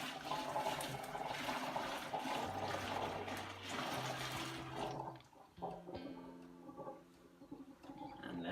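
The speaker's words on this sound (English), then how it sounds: "we need to actually empty the pan of water" Water pours and rushes steadily out of a pasta pan into a sink, then thins to trickles and splashes as it drains away.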